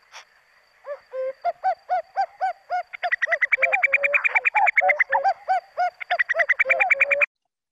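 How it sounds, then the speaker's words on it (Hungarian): A male common cuckoo repeats its hollow two-note call many times, while a denser run of rapid, overlapping bird notes joins in midway. The calls are loud and clear, then stop abruptly. "És háttérben az a kakuknak a kakukkolása, a hímnek."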